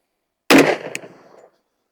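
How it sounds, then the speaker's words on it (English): A single close 10mm shot from a handloaded round fired at a target, a sharp loud crack with a brief ringing decay, a short metallic tick right after, then silence. "We're going to shoot at the bottom right target."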